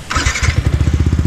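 A Yamaha motorcycle fitted with an Ata GP3 exhaust, titanium header and honeycomb mesh muffler cranks with a brief whir, then fires into a loud, close, rhythmic thumping idle.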